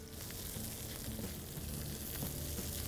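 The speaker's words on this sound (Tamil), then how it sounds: "இந்த கடலைப்பருப்பும் சரி உளுத்தம்பருப்பும் சரி சின்ன வெங்காயம் சரி பூண்டும் சரி இது எல்லாமே வந்து கோல்டன் ப்ரௌன் கலரில் ஃப்ரை ஆகும்" Chana dal, urad dal, shallots and garlic frying in hot oil for a chutney, a steady dense sizzle that stays loud and even throughout.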